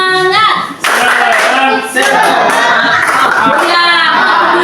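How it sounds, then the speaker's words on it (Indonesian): Schoolchildren in a classroom doing rhythmic spirit clapping, loud close hand claps in patterned bursts mixed with children's voices chanting along. "Tepuk semangat."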